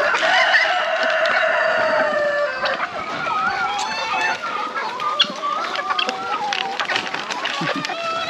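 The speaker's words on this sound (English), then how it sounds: "Inside here now is where we have our giant chicken, our large breed chickens." Large breed chickens on a Jamaican animal farm cluck and crow steadily, with roosters calling in a busy, noisy coop, the birds loud and close throughout.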